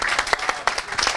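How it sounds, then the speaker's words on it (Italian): Brief applause from an audience at a football club's season presentation in Gabicce Gradara, separate claps of moderate loudness pulsing in a quick irregular rhythm. "facciamo un grandissimo applauso al capitano Elia Fabbri,"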